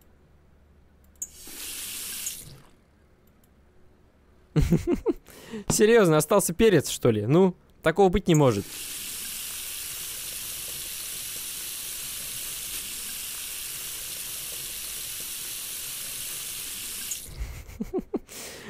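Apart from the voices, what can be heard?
running tap water washing cod, from video game Cooking Simulator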